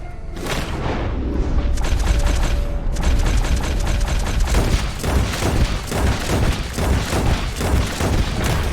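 Rapid gunfire in Red Dead Redemption II, a dense series of loud sharp shots and mechanical clicks from weapons firing in quick bursts over nearly nine seconds, with no talk.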